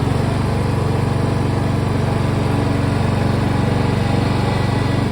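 A riding lawn mower with a hydrostatic transmission runs at mid throttle or higher on a sunny day, its engine a loud, steady, close drone with no talk.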